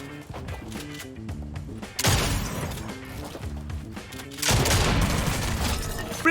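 Rapid bursts of gunfire from a Fortnite match on a controller setup, dense and loud throughout, with two sharp surges of heavier shooting over a rhythmic music-like backdrop.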